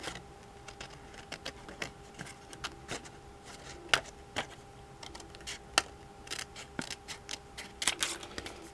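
Small scissors snip a butterfly shape out of vellum, giving crisp, irregular cutting clicks close to the microphone, steady over a low background hiss.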